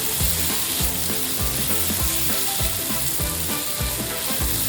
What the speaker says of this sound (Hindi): अब हम इसमें डाल देंगे अदरक लहसुन का पेस्ट और इसे अच्छे से भून लेंगे